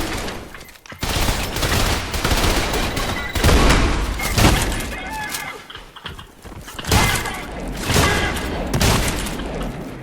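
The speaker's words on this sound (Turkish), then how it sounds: "Oy pompalı fazla güçlü." Shotgun fire in the first-person shooter Trepang2: loud, close booming blasts repeat amid a dense fusillade of game gunfire and impacts, with some voice mixed in.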